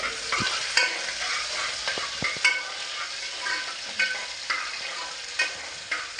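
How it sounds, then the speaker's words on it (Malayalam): Two chilies with ginger and garlic sizzling in a pan for an onion curry, a steady bright crackle broken by repeated scraping stirs and soft clinks of the spoon against the pan. "മുളക് രണ്ട് മുളകാണ് കേട്ടോ എടുക്കേണ്ടത് പിന്നെ ഇഞ്ചി വെളുത്തുള്ളി അപ്പം നമുക്ക് ഇതിലോട്ട് ഇട്ട് കൊടുക്കാം"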